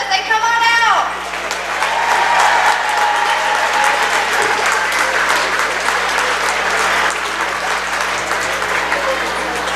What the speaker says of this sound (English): Let's give one more loud round of applause as they come on out.